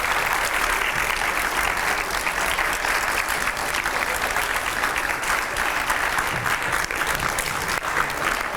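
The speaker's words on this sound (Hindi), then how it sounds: "जोरदार तालियां रुकनी नहीं चाहिए" A studio audience applauds Uma Bharti's arrival on a TV talk show, a loud, dense, sustained wash of clapping with no break, alone and close.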